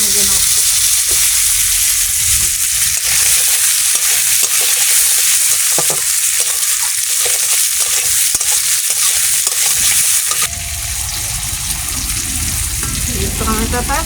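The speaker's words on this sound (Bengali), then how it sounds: "টমেটোগুলো ভেজে নেব।" Tomatoes fry in a pan with a loud, continuous sizzle and hiss while they are stirred. The crackle shifts and softens slightly near the end, and no speech comes through.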